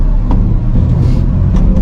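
Car engine running at 2,000 RPM in second gear, a steady low rumble heard from inside the vehicle, close and loud, with no talk over it.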